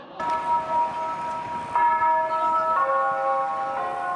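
Clock tower chimes in China play the melody of "The East is Red" as a sequence of sustained, ringing bell notes, several distinct tones overlapping as each fades, clear and fairly loud with no speech.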